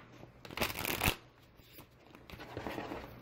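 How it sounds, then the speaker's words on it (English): A deck of tarot cards being shuffled up close, with a dense riffling flutter that swells to a loud burst, then softer rustling shuffles as the cards are handled again, no voice. "I'm going to shuffle the cards 2 more times"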